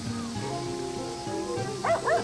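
A dog in the video game Sakuna: Of Rice and Ruin gives two short, high yips near the end, over steady game music.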